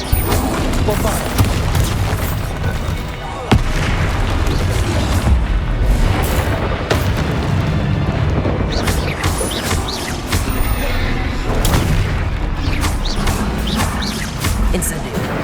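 Bombarda blasting spells exploding in Hogwarts Legacy combat, repeated loud booms and crashes amid constant battle noise, with a voice speaking over the fight.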